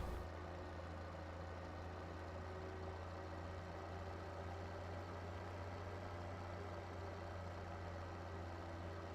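A tractor in Farming Simulator 17 hauls a heaped trailer uphill on a hillside farm, its engine a steady, heavy low drone that holds a constant strained pitch throughout, with no voices over it.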